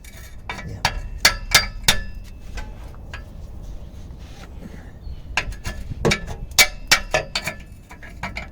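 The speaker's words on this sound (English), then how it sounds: "I'm hoping that I can just bash it off with a chisel and" Sharp metallic strikes of a hammer on a chisel against a rusted exhaust clamp on a Mercedes Vito W639 van, coming in quick bursts of several blows with short pauses between, close and ringing.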